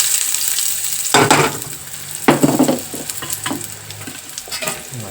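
Finely chopped shallots sizzle steadily in hot oil in an iron pan, close and loud, with several bursts of scraping as they are stirred and no talking.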